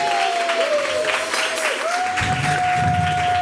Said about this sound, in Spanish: Dale ese aplauso grande al Señor